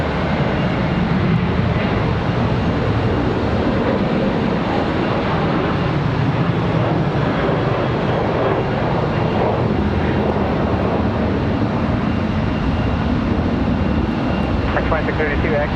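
An American Airlines jet departs Charlotte Douglas airport, a steady loud engine roar filling the whole stretch without letting up, heard from a plane-spotting position.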